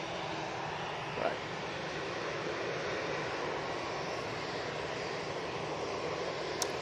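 Airliner departing Manchester Airport, a loud continuous roar of engine noise with a broad steady rush heard from the ground, with no clear talking.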